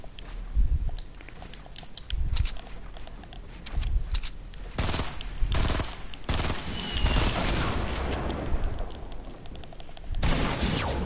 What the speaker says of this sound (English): there's someone shooting through a tree